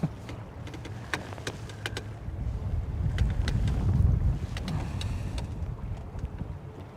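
A bass fishing boat's main outboard motor runs out on a lake as a steady low drone that swells a little midway, with wind buffeting the microphone and a few sharp knocks on top.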